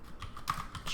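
Brief burst of typing on a computer keyboard, a few quick close key clicks in an irregular rhythm, quiet and with no voice.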